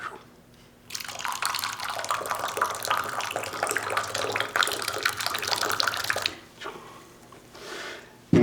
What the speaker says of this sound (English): As I pour that hot water